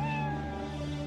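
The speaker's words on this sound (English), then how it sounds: "It's a cat!" A cat meows in the video game TimeSplitters: Future Perfect, one drawn-out, tonal meow with steady harmonics lasting about a second, close and clear over a faint game background hum.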